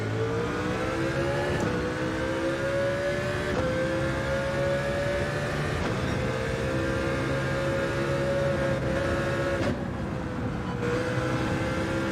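Race car engine in Gran Turismo 7 pulling away, a loud steady high-revving drone that climbs in pitch through each gear, broken by several quick upshifts with brief dips, continuous and close with no talk.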